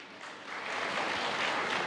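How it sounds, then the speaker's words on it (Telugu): An audience at an outdoor church Mass at the Gunadala shrine breaks into applause, the clapping swelling from light to a loud, steady roar of many hands. "గట్టి చప్పట్లు కొట్టండి."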